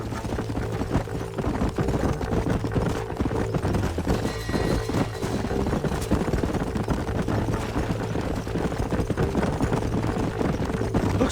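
Horses' hooves clip-clop in Red Dead Redemption, a busy, continuous patter of several horses at a steady gait over a constant rumble of movement.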